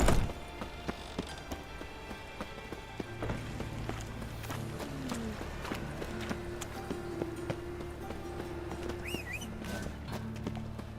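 Geralt's horse Roach in the video game The Witcher clip-clops at a steady trot, hooves tapping in an even rhythm at moderate loudness under ambient game background.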